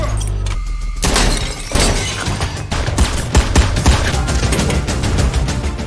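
Rapid gunfire rings out in a tense action-film scene as a young woman shoots a man about to kill her father, a loud dense barrage of shots with sharp cracks and shattering impacts over a rumbling score.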